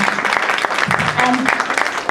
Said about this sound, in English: Let's give another round of applause to the Nama Samkeertanam team.